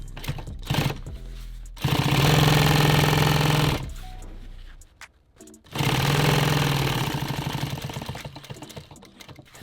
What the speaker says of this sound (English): So here, I'm going to sew these even because I know these are even here.